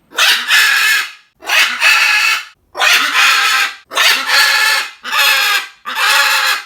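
Six loud, harsh squawks from a macaw, each about a second long, separated by short silences in a steady rhythm.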